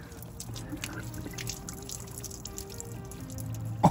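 Water poured into the sunroof drain of a Ford Explorer, a steady low trickling and dribbling that continues throughout at moderate level, with a slightly louder splash near the end.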